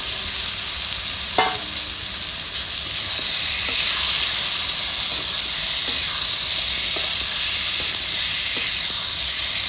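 Cut potatoes hit hot oil in a pan for a soybean and potato curry, a loud steady sizzle and hiss rising after a sharp clatter and holding with faint stirring taps underneath.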